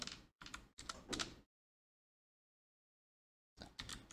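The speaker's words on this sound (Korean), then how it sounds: "타이핑을 할게요." Rapid typing on a computer keyboard during a Python programming lesson, several quick bursts of clicking keys, close and clear, broken by a silent pause of about two seconds.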